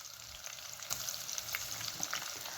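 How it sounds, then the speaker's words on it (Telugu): Thinly sliced onions go into a pan of frying tomatoes, green chillies and tempering spices, producing a quiet, continuous sizzle dotted with small pops and light stirring. "సో ఇప్పుడు అన్నీ బాగా వేగిపోయి ఇప్పుడు ఉల్లిపాయలు వేసేసుకుంటాను."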